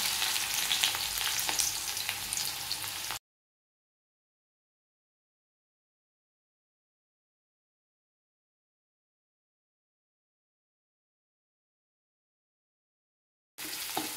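Garlic and onion fry in oil with mustard seeds and fenugreek for a kulambu. A close, steady sizzle with light stirring lasts about three seconds, then long total silence, and the frying briefly returns at the end.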